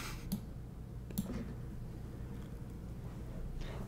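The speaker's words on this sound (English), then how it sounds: "Grape Jew, the clicks is the best part of mechanical keyboards." Two sharp, isolated clicks from a mechanical keyboard, about a second apart, stand out over a steady low hum, with no voices.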